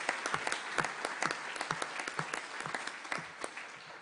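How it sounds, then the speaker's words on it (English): Applause in a conference hall at the First Meeting of States Parties to the Treaty on the Prohibition of Nuclear Weapons, a spread of separate claps from the delegates that is moderately loud and fades slightly toward the end, with no talk. "I think that's worth a round of applause."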